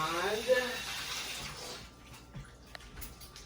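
A kitchen tap runs as hands are washed during cooking, a steady wash of running water for the first couple of seconds that fades to quiet room tone with faint clinks.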